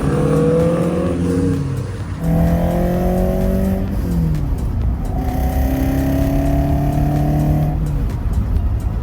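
Toyota AE86 and GR86 cars driving in Texas, engines loud and close, revving up through several gear changes in rising and falling pitch sweeps, with a steady road rush underneath.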